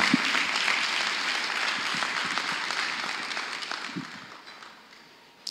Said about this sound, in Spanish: Fuerte los aplausos a Jesús